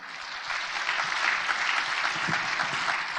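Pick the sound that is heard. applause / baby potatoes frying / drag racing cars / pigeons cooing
applause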